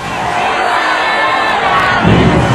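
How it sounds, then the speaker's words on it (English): A large concert crowd roars steadily for a few seconds, a dense wash of many voices shouting together that swells louder near the end. "the crowd turned and started yelling, fraud, fraud"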